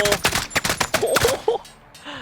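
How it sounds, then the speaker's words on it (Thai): Sniper and rifle gunfire in the first-person shooter Call of Duty: Modern Warfare, a quick cluster of sharp shots up front followed by softer thuds and clatter that fade toward the end. "ยิงขาก่อนยิงเข่า"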